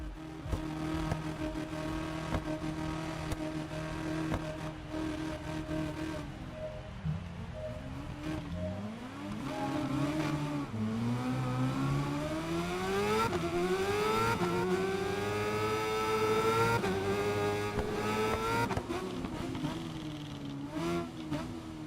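Motorcycle engines in the racing game Ride 5 rev and rise in pitch as a race gets under way, several bikes droning together with climbing, overlapping engine tones at moderate loudness.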